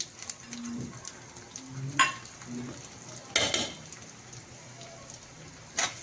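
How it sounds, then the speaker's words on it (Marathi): Urad dal frying in a mustard seed and cumin tempering for amla rice, with a low sizzle broken by sharp scraping stirs and clinks of a spoon on the pan. "उडदाची डाळ अशी टाकली की आपण हरभऱ्याची डाळ टाकून घेणार आहोत या अशा आपण छान तळून घ्यायच्या"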